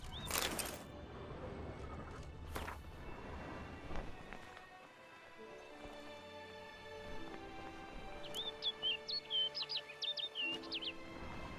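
A bird in the game Alan Wake gives a short run of high chirping calls late in the sequence, heard after footsteps and rustling.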